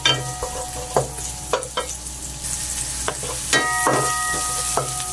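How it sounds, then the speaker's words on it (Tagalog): Garlic and onion hit hot oil in a pan with a bright sizzle, punctuated by repeated sharp scrapes and clinks of a spatula stirring, close and loud, with no talking. "Pag mainit na, syempre, lagay ang bawang and then sibuyas."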